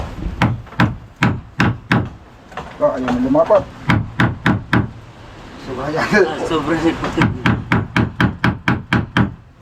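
Rapid, evenly spaced hammer strikes on wood while building a boat, loud and close, in bursts with brief pauses while people talk over the pounding.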